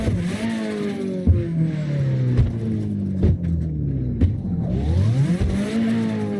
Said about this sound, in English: You got the Japanese exhaust on that. That style of exhaust is unique to Japan.